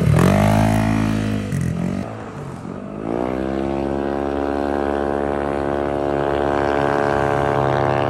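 A blue Yamaha Aerox scooter pulls away at an enduro rally in Pangasinan, its engine note climbing and rising steadily in pitch as it rides off, fairly loud and close, then holding a sustained drone.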